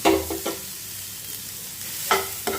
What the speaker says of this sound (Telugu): ఇప్పుడు మనం తురుము చేసుకున్న కొబ్బరిని వేసుకొని కొంచెం వేపుకుందాం